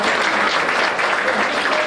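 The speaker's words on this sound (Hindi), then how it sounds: "आज का दिन बहनों का दिन है, इसलिए ताली बजाओ सर।" Steady, dense applause from a crowd, loud and continuous throughout with no pauses.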